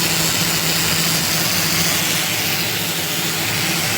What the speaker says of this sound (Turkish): Şimdi matkabı da çalıştıracağım aynı anda